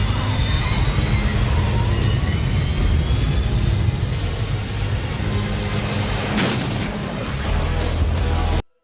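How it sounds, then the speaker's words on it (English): Jet engines roaring in the opening scene of the film Top Gun, a loud, continuous broadband rumble with a deep low end and a brief sharper surge near the end before cutting off. "the opening scenes where the jets are firing their engines"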